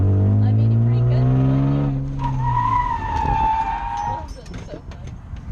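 A BMW E36 drift car revs hard with rising engine tones, then tires squeal in a long wavering skid, close and loud with a brief voice underneath.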